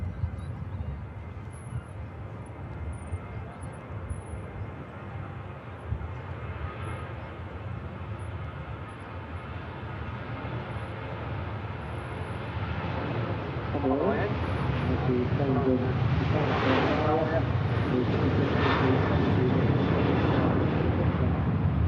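A Corendon airliner takes off at Manchester Airport, its engines rumbling from a distance and swelling louder as the roll builds, with a commentator speaking over the roar.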